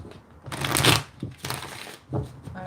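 Tarot cards being shuffled by hand, a few papery riffling bursts with short pauses between them, close and fairly soft, with no talking.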